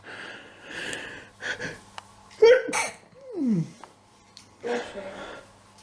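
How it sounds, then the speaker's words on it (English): A close, forceful sneeze bursts out amid sniffing and breathy sounds, with some speech around it. "I want to sneeze."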